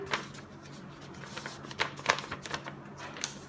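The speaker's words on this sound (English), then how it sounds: "Suppose I have written on this paper, I'll fold it 1," A sheet of paper folded by hand, a few soft crinkling creases and rustles spaced apart, close-up against a low background hum, nobody speaking.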